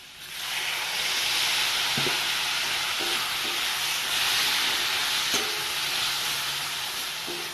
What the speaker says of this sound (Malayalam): ഇതിലേക്ക് കുറച്ച് നമുക്ക് വെള്ളം ചേർത്ത് കൊടുക്കാം